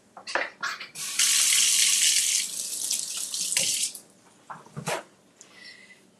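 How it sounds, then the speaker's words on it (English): Hands being washed under a running kitchen tap: a loud, steady hiss of water for a few seconds, then splashes and drips, while a dog barks in short bursts nearby. "Wash my hands."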